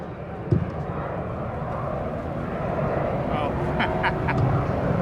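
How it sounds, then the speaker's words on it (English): An A-4 Skyhawk jet flies in the airfield pattern at NAS Lemoore during a demonstration, a steady broadband roar that builds slightly over several seconds, with a few brief quacking, voice-like blips on top. "We got an aircraft in the pattern."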